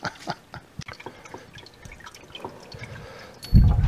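Cheese curds and whey for pepper jack cheese scooped into a cheesecloth-lined mold, with close wet drips and splatters, then a louder splash at the end.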